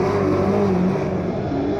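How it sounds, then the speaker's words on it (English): Speedway race cars roaring down the back straight at Riverside Speedway in Invercargill, New Zealand, a loud sustained engine drone from close by with no pause. "Half a car length between Williamson and Burgess as they head down the back straight"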